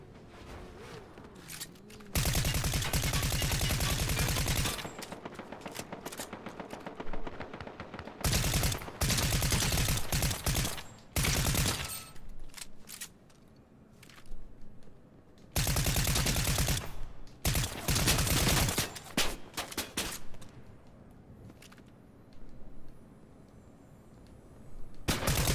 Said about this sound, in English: Somebody else is shooting at them now, I think.